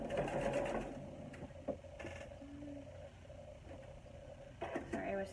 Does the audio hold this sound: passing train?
no